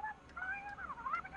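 A cat meows several times in quick, wavering cries, fairly close and moderately loud, with no talking.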